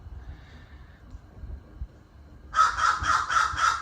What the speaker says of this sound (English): Here it is, in the form of two big old black crows.